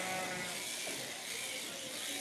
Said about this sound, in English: Texel cross sheep here again.